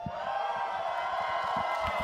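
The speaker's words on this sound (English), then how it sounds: "The Cloud9 cheers coming from the crowd." A large arena crowd at a Valorant Champions Tour esports match cheers and roars for Cloud9, a dense, sustained wall of voices with scattered whoops, loud and continuous throughout.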